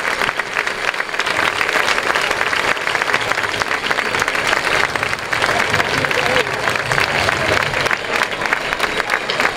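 A festival crowd at the San Juan fiestas in Tudela gives a long, loud, dense ovation of clapping that fills the whole stretch, with voices mixed into the applause.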